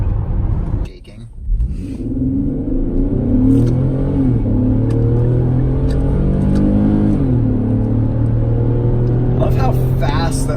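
A 2011 Infiniti M37x V6 pulls hard uphill on a test drive, a steady loud engine drone with rising and shifting harmonics as the revs climb and change, inside the cabin, with people talking briefly.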